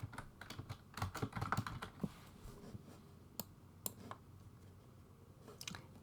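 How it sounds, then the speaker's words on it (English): Computer keyboard keys tapped out in irregular bursts while typing a book title, close and fairly quiet, with a denser flurry early on and scattered single clicks afterward. "type in your title"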